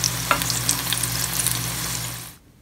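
Hot oil sizzles and crackles steadily as kadi pakoda fry, with small pops, before cutting off abruptly near the end.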